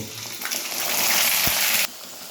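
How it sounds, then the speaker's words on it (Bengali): Ginger frying in oil over a low flame for vegetarian khichuri, a steady hissing sizzle that swells and holds, with a short clunk midway before the sound drops back quieter near the end. "তো এবার আদাটা আমার ভাজা হচ্ছে।"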